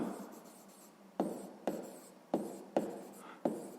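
A pen writes out a sixth-grade math solution on paper, with scratchy strokes broken by sharp taps at irregular intervals; quiet and close, with no voices.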